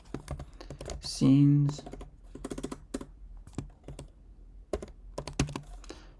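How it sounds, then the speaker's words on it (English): Fingers type on a computer keyboard in short bursts of quick clicks, close and clear, while someone talks between and over the keystrokes. "It'd be probably faster just to type it in manually."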